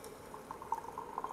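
Hot water trickles faintly into a new teapot, a soft, quiet pour with small bubbling splashes that continue without a break.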